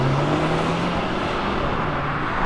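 A Volkswagen Fox pulling away from a car event, its engine droning steadily and close throughout, with no voices over it.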